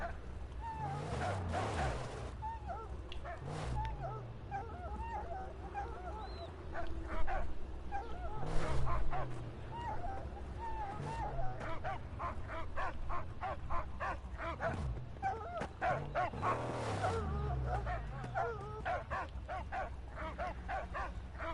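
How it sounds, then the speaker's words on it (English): In the Mad Max video game, a dog barks frantically in repeated bursts and yips, with whimpers mixed in, over a steady rumbling engine bed. "This dog is losing its shit, and I don't know why."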